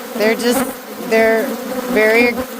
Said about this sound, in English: This is Africanized honeybee.